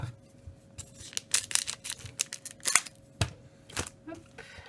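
Pokémon XY booster card packs are torn open one after another, giving sharp crinkling rips and crisp foil snaps in quick irregular bursts, close and clear, with a soft hum underneath.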